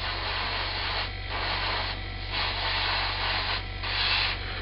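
An airbrush sprays a thinned Mr. Colour paint mixture in a steady, fairly quiet hiss with a few short dips and swells, over a low electrical hum, with no talking.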